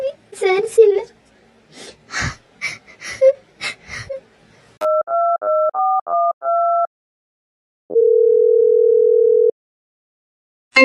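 A telephone call goes unanswered: a voice speaks first, then a short run of repeated two-tone beeps is followed by one long steady tone, then silence.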